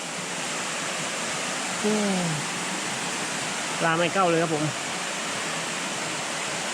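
Waterfall and stream water rush steadily through a forest as a constant, loud broadband wash, with a voice speaking briefly twice over the flow.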